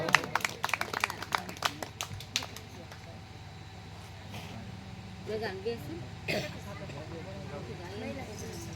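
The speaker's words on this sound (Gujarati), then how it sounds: "એમને તાળીઓથી વધાવો." An audience at a Ram Katha religious discourse in Savarkundla claps in a brief burst of sharp claps, which fades into a faint room murmur with occasional voices.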